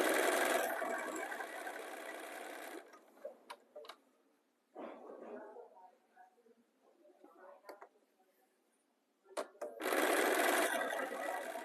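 A sewing machine stitching rows of quilt pieces together runs in close, loud bursts at the start and end, with a quieter stretch of ticks and handling in between.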